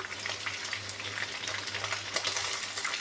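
Chicken pieces fry in a pan, cooked with bean seeds, in a steady close crackling sizzle with scattered spitting pops and a faint low hum underneath, no voices.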